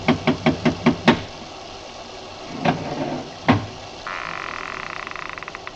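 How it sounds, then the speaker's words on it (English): Radio drama effect of a bronze idol rapping on a door: six quick, sharp knocks in an even rhythm, then two heavier isolated knocks after a pause, followed by a steady rattling buzz. "I lifted the bronze idol and rapped on the door with it"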